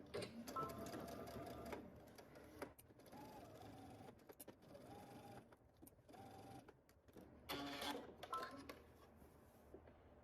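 A home sewing machine stitches in the ditch along a garment seam to catch the facing underneath, running in several separate bursts of whirring with short pauses between them, fairly faint and close.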